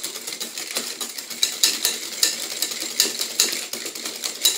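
Rapid, rhythmic clicking and clattering of a whisk against a bowl, beating eggs until pale for lemon tiramisu, steady and close, with no talking.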